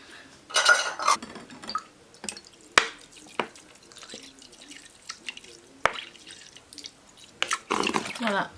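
Alcohol vinegar is poured into a glass in a kitchen, giving scattered splashes and drips with a few sharp clinks of glass at close range, loud for a moment and then fading between bursts.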